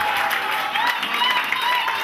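Steady, dense audience applause at a Labour Day gathering, sustained at an even level across the whole stretch, with a few shouts or whistles rising faintly above the clapping.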